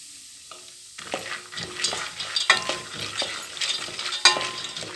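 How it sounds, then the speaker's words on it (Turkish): Peanuts sizzle and crackle in hot oil while being stirred around a pan, with scraping strokes starting after a moment of quiet. "fıstığımı kıpkırmızı kızartmam lazım"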